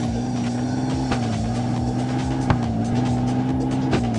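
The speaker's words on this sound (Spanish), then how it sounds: "Ahora sí, estoy acelerando una vez más." A sports car in the racing game Mega Ramp Car Stunt GT Racing accelerates with a steady, loud engine drone that holds its pitch throughout, with a few brief sharp knocks along the way.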